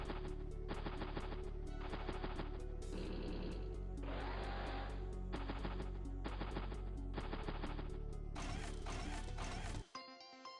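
Tank artillery fire in Advance Wars: Days of Ruin, a burst of repeated rapid blasts and impacts layered over loud game music, cutting off abruptly near the end.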